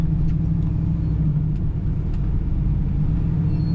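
A 1972 Chevrolet Camaro SS, performance-tuned, idles at a steady, loud, deep rumble with an even low throb close by, and no one talks over it.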